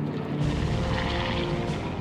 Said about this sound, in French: Les avions sont au-dessus de la France.